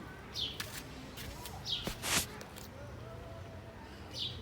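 Sparrows in a small home garden give a few faint, short chirps in the morning, spread out over quiet outdoor background noise.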